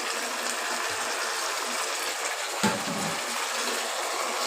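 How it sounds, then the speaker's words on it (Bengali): Water poured from a rinsed bowl into a pan of egg chilli on the stove, a steady broadband gush running throughout with one brief knock near the end, no talk. "বাটিটা ধুয়ে আর একটু জল দিয়ে দিচ্ছি"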